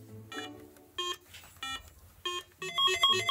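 An electronic memory game toy beeps out a four-note sequence of bright, clipped tones, each note a separate short blip with pauses between, ending in a quicker flurry of higher beeps.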